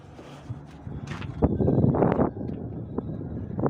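Gusts of wind buffet the microphone, producing low rumbling thumps and roaring that swell and fade unevenly.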